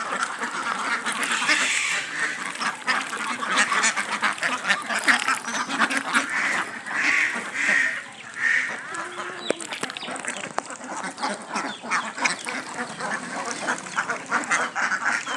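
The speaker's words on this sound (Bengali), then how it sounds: "এখানে প্রায় 100 হাঁস আছে" A flock of about a hundred native ducks quacks continuously while feeding; many overlapping nasal calls come close and loud in a busy, unbroken chorus.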